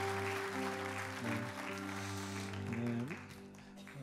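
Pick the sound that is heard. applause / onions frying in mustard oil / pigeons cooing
applause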